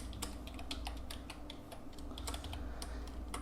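SQL syntax being typed on a computer keyboard, quick irregular clicking keystrokes, close and fairly quiet, with no voices.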